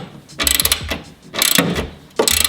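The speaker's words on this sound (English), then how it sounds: "Then you can use a 10mm socket to tighten this down." A hand ratchet with a 10mm socket tightens a nylock nut on a Toyota Tacoma backup camera mount, making three loud, close bursts of rapid clicking with short pauses between strokes.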